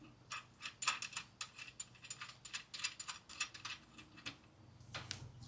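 Ratchet tightening a bolt and lock nut on a John Deere 300 garden tractor, giving quick bursts of close, crisp clicking in an uneven rhythm with short pauses.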